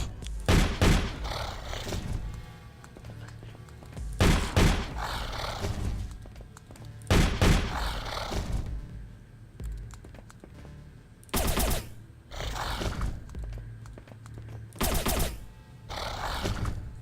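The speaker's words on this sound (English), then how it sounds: "Might as well use the auto shotgun at it." Auto shotgun blasts from The Pit video game, fired in several loud bursts of rapid shots separated by short pauses, with a low rumbling game ambience underneath.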